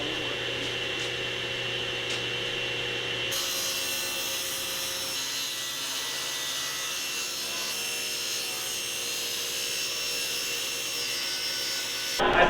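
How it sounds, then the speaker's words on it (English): Table saw ripping 8-inch strips from plywood sheets in a partly set-up workshop: a steady, loud whine with constant cutting noise that runs unbroken for the whole stretch, with no talking. "So I'll just rip some 8-inch sheets of plywood."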